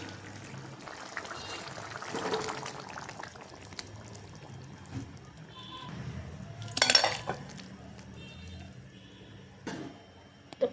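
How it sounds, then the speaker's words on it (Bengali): Cooked pangas fish is tipped from a pan into a metal wok with soft scraping, sloshing pours and a few clinks of utensils against cookware. One louder clatter stands out midway, against quiet kitchen background. "তো মাছটা এই কড়াইতে ঢেলে নেব"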